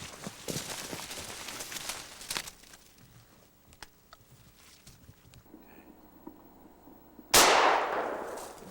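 A single loud, sharp gunshot from a hunting firearm fired outdoors in woods, cracking suddenly near the end and decaying over about a second, preceded by rustling, footsteps and faint outdoor noise.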